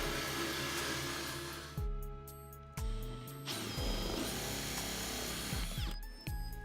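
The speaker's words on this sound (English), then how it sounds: "drill a couple of holes to allow access for the cords to the lights" A power drill bores holes through a wooden cabinet back for light cords, in several loud bursts of whirring that spin down between each pass and start up again.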